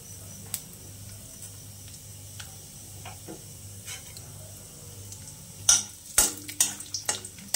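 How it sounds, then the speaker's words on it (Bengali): Cashews frying lightly in oil in a wok: a quiet, faint background hiss with soft intermittent clinks, then a cluster of sharper scraping and stirring knocks near the end. "কাজুগুলো হালকা করে ফ্রাই করে ভাজবো"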